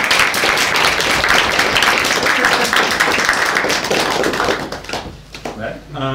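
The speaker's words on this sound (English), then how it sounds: "I think it deserves applause." Audience applause breaks out after a food hacking presentation, dense and loud clapping from a crowd for about five seconds before it thins out and fades, with faint talk near the end.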